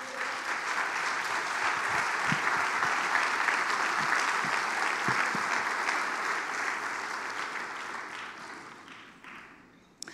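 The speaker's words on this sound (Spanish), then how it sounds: "Denle un aplauso al Señor." Sustained applause from a church congregation praising the Lord during a service, a dense steady wash of many hands clapping together for about ten seconds before it thins and tails off at the end.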